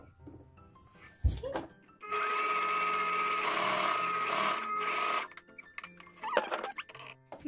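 Brother sewing machine running a decorative stitch, a steady mechanical whirr lasting about three seconds, close and fairly quiet, with a few clicks and thumps before and after.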